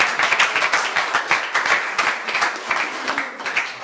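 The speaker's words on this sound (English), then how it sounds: "you deserve a special round of applause." Audience applause at a photography gallery event, a dense, steady patter of many hands clapping for about four seconds without pause, fairly close and lively.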